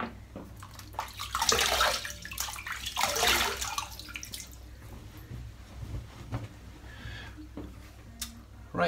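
Water splashes close by as hands scoop it from a sink to wet the face before a shave, with bursts of splashing and dripping between quieter pauses.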